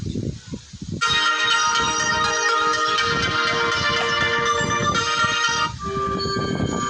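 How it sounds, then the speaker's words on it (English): A bright chiming electronic tone rings out steadily for several seconds over faint background noise and rustling, then cuts off. "That is my notification sound."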